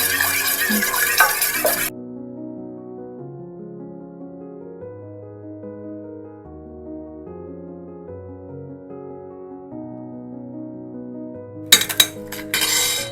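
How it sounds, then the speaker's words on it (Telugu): An egg is beaten in a bowl for fish pakora batter, a utensil clinking and rattling against the bowl in short bursts at the start and end, with a gentle instrumental tune filling the quiet middle. "ఇది బాగా మిక్స్ చేయాలండి ఎగ్ని"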